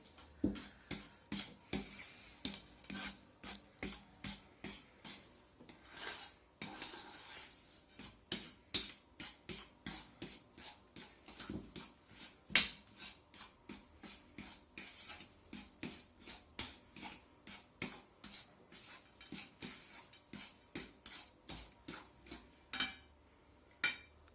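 A spoon scrapes and clinks steadily against a pot while sugar is stirred into a mixture, giving a quiet, regular rhythm of rubbing strokes with light metallic taps and no talking.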